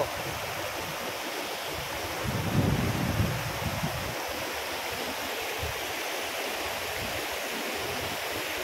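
A river flows past a village farm in a continuous broad hiss of moving water, with a short low rumble swelling briefly early on.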